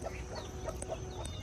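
Chickens clucking in a chicken house below a home in the early morning, a steady background of soft, scattered clucks and calls, fairly faint with no talking.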